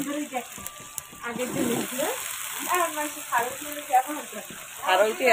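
Malabar spinach hitting hot oil in a home kitchen pan, a steady frying sizzle with some stirring, heard beneath a voice talking throughout.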